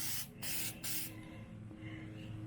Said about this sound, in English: I'm gonna spray it thick because I want the color to actually come through.